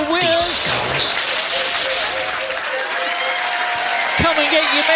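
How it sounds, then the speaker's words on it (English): Applause from a trivia quiz audience in Ely for the winning team, a dense, close patter of clapping with talk and raised voices running over it throughout. "Give them a round of applause."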